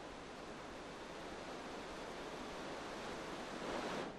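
Steady, dense roar of Tomara Waterfall in Gümüşhane, Turkey, milky water dropping 20-30 metres, loud and continuous like a nearby waterfall, with no voices.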